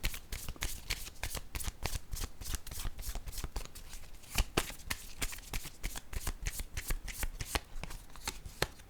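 A deck of cards is shuffled up close in a quiet room, giving a rapid, rhythmic run of crisp riffling flutters and taps that continues steadily throughout, with no talking.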